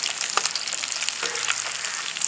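Beef pieces dry-frying Kerala style in a pan over a low flame, giving a steady, close crackling sizzle with scattered small pops and no voices.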